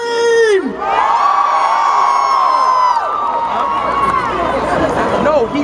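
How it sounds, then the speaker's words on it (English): At a rally, a loud shouted call sets off a large crowd screaming and cheering nearby, a sustained roar of whoops and yells that lasts to the end. "Let me hear you scream!"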